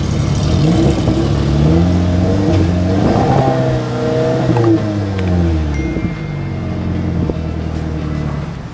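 A Chevrolet Malibu 8 with the 2.4 engine and twin exhaust mufflers revs up and down repeatedly, its rising and falling engine note loud and close, with no talking.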